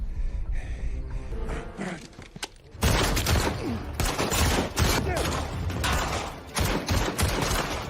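A shootout in a film: after a tense stretch of low ambience, dense bursts of gunfire break out, loud and continuous, volleys overlapping with sharp individual shots.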